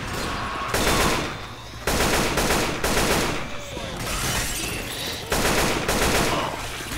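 Repeated bursts of gunfire in the zombie shooter Left 4 Dead 2, loud rapid volleys in several separate strings, with players talking faintly underneath.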